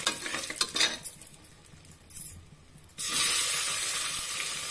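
Dal and capsicum frying in a pan for a methi potato rice dish, with bursts of stirring and a steady broadband sizzle that swells louder in the second half, no voices present.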